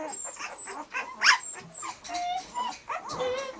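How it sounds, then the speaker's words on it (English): Nine-day-old red Standard Poodle puppies whimpering and yipping in short, high, irregular cries, close and fairly loud, with several overlapping squeals. "These are Art and Carney's puppies. They're a week old"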